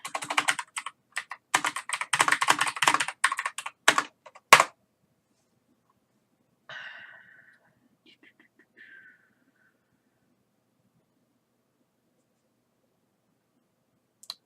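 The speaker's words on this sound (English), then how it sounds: "Well, let's just type. I'll type the specific album." Quick clatter of typing on a computer keyboard, dense keystrokes for about four seconds, then near silence broken by a short faint sound.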